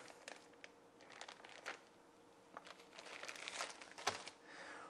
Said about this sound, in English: We'll start by removing the 2 lengths of hoses out of the bag and the small inline pre-filter.